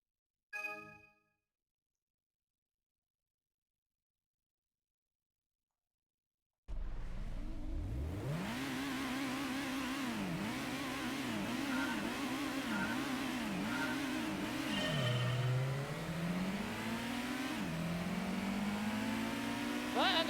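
Race cars launching off the line in Gran Turismo, including a Honda NSX, a Toyota TRD and a Mazda RX-7: after a brief blip and a long silence, engines roar up loudly through repeated rising gear-change sweeps.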